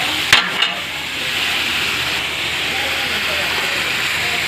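Ground meat sautéing in a pan for gisadong ampalaya gives a loud, steady sizzle and hiss throughout, with a couple of utensil clinks near the start.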